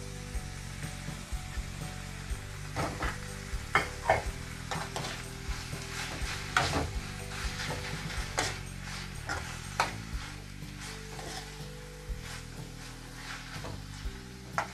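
Paneer slices and boiled spinach frying in a pan, with a steady sizzle under repeated stirring scrapes and light clinks, heard close and continuous with no talking.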